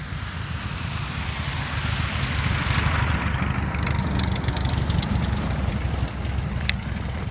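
A Fisher Celebrity light aircraft engine drones loudly and continuously at an airport. Its rough, steady roar is mixed with wind rush and holds without a break, with no talk.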